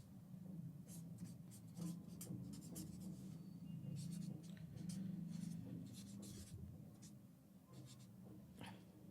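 A pen or pencil scratching across paper in quick, irregular strokes, close and fairly quiet over a low steady room hum.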